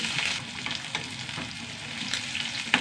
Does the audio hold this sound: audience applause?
no